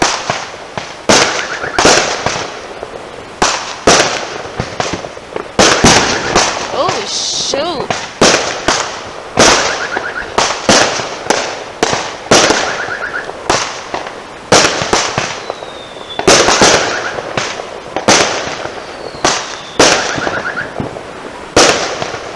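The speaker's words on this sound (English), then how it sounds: "all the fireworks that you're seeing get popped" Neighbors' Fourth of July fireworks go off in a long string of loud, sharp bangs and crackling bursts at an irregular pace, some close and some farther off, with voices faintly in between.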